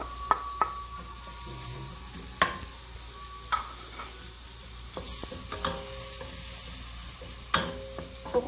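Onion, garlic and ginger stirred in a pan for prawns with corn, no oil added, giving a soft steady sizzle broken by a few sharp clinks of a utensil against the pan; quiet and close, no talking.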